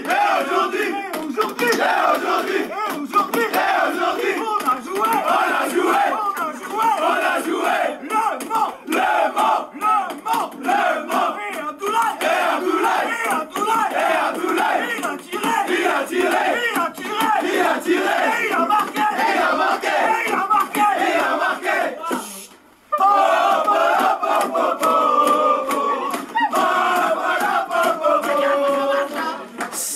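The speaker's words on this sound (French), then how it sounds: "on va passer le cri de joie des Sochaliens" Sochaux football supporters' cry of joy chant, a large crowd roaring and chanting in unison for about half a minute, loud and sustained with a brief break near the end before voices surge again.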